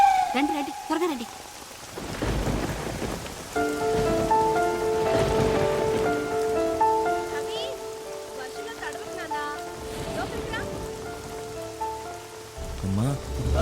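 Steady rain pours and patters on surfaces throughout a film scene, loud and continuous beneath background music and people speaking.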